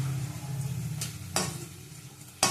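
Bitter gourd slices frying crisp in hot oil in a pan, a steady soft sizzle with a few sharp clinks of a utensil against the pan, close by.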